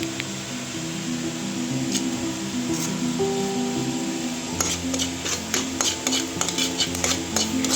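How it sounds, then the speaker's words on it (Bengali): Masala paste with water, salt, sugar and chili powder stir-fried in oil in a pan for paneer masala, a steady close sizzle with scraping and metal spoon clatter that grows busier and more clicky partway through. "এই যে পেস্টটা দিয়ে ভালো করে সেটা কষে নেবো যতক্ষণ না তেলটা বেরিয়ে"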